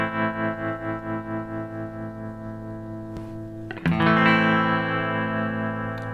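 Electric guitar plays through a Boss TR-2 tremolo pedal, a sustained chord pulsing in gentle volume waves that grow subtler as the depth drops, then a fresh strum rings out steady and louder.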